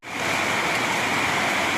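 Heavy rain pours down in a dense, steady roar of broadband hiss, constant and close throughout.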